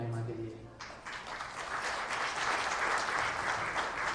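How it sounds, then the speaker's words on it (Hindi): A church congregation at a convention bursts into dense, sustained clapping that swells and holds steady, with a brief voice at the start before the applause takes over. "जितनों ने तालियां बजाई प्रभु के महिमा के लिए"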